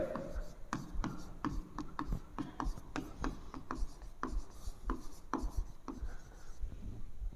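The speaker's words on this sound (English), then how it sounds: "first we draw its circuit diagram" A pen or pencil scratches out a circuit diagram by hand, close and quiet, with short strokes and taps in an irregular rhythm over soft room noise.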